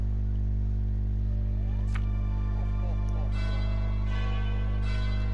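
Wedding church bells chime in the Game of Life 2 video game, a soft ringing set over a steady musical drone with no talking.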